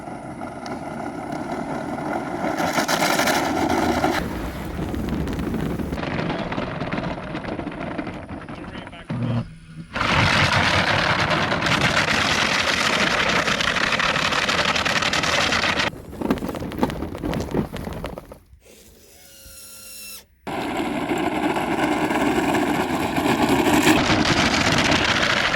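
A Power Wheels ride-on car fitted with upgraded motors drives at full throttle, a loud steady whirring drone with rushing wind noise and brief drops in level, while voices speak over it.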